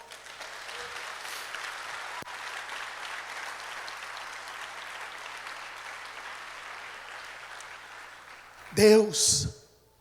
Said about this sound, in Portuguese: Quantos creem, acreditam, dê um aplauso ao Senhor.